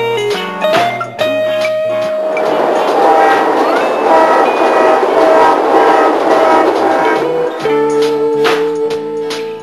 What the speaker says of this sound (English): Okay, we can turn the trains on.